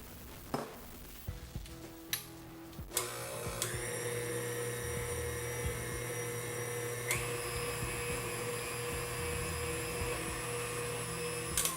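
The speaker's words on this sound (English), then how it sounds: "toss it right on in with all the other ingredients that are already in your mixer" An electric mixer starts up to combine wet vegan muffin ingredients, a few clunks and bumps followed by a steady high motor whine that continues to the end.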